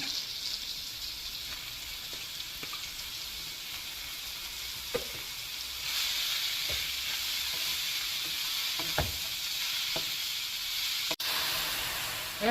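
Oyster mushrooms sizzle and hiss steadily in a hot pan, with occasional scrapes and stirring knocks, the frying growing a bit louder midway.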